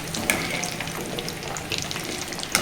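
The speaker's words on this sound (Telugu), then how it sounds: "కొంచెం కలర్ వచ్చేటట్లు వేయించుకోవాలి" Amla (Indian gooseberry) pickle ingredients fry in a pan with a steady, close sizzle, broken by a few sharp scrapes of stirring.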